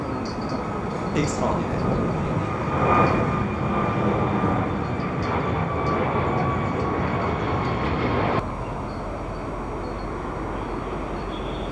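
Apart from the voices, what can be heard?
Airbus C-Series 300 airliner with Pratt & Whitney engines climbing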